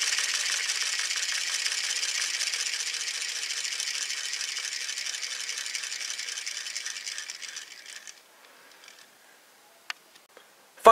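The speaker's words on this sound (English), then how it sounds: "spin the head part, then release that to make the head go spinning" The plastic head of a Cube Octopus toy spins freely after release, giving a steady high whirring rattle that fades out over several seconds into near silence, followed by a few faint clicks and a final knock.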